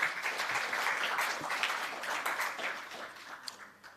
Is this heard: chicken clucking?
no